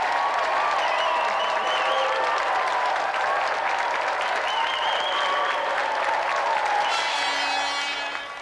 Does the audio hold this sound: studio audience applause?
yes